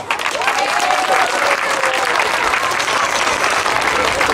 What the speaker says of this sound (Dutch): Dus ik wil een applausje ook voor de SKS.